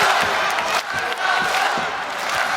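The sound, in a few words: arena crowd chanting for Masato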